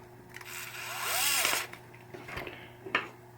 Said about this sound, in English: this screwdriver is strong